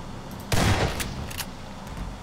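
A gas can is shot and blows up in Half-Life 2, giving one loud, sudden burst that fades into a rumbling tail, followed by a few fainter, shorter bangs.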